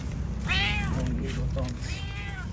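Homeless street cats meow while being fed with cat food: two clear, drawn-out meows close by, separated by a short pause, over a low rumbling background.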